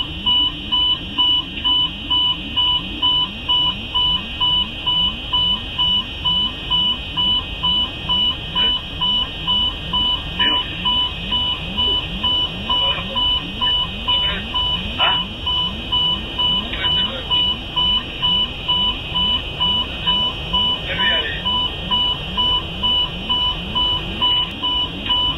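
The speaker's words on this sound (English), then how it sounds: "The cockpit was overwhelmed with alarms and voices urging calm." Cockpit warning alarms sound during an air disaster reconstruction, a steady high electronic tone with rapid repeating pulses running continuously and loud, layered over a low rumbling rhythmic drone with occasional clicks.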